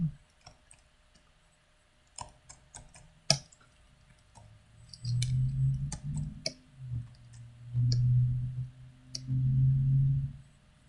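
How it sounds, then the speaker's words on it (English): Plastic case latches click in a string of sharp, separate snaps, close and crisp, mixed with handling and shuffling noises from the case being packed. "Maybe I can get these latches."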